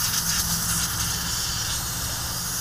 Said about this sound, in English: Steam out those vents.